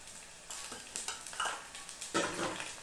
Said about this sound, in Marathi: ते पण तेलावर चांगले फ्राय करून घेते.